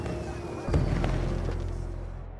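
Fireworks burst in the video game Beyond A Steel Sky: a muffled boom opens a string of crackling pops that fade into a soft low rumble, all heard faintly at a distance.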